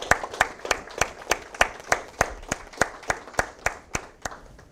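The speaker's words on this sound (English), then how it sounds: "All right, let's give all of our new members a round of applause." Audience applause for new members at a National Technical Honor Society induction ceremony, with sharp, distinct claps in a steady rhythm, fairly close and lasting several seconds.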